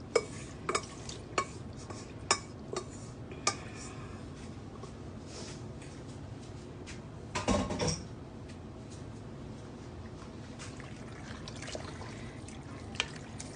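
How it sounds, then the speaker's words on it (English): Baked ziti pasta being stirred in a pan, soft wet scraping and clicks of the spoon against the pan at an uneven pace, with a louder clatter midway, quiet and close. "I'm just going to stir this down through."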